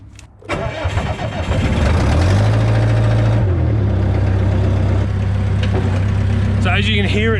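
A Bobcat skid steer with no muffler fires up after a brief crank and settles into a loud, harsh, raw engine roar that holds steady and close, barking unmuffled throughout.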